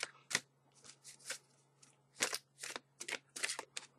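Quick rustling bursts of tarot cards being shuffled, repeated in an uneven rhythm of short riffles and pauses, close by and fairly quiet.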